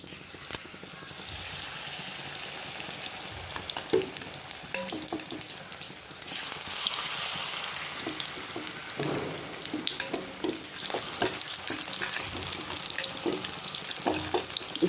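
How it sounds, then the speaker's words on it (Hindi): Stuffed bitter gourds (karela) fry in hot oil with a steady, close sizzle that swells after a few seconds, with faint clinks and stirring noises over the top and no talking. "अब मैं जो बाकी है उसको मैं फ्राई कर लेती हूँ"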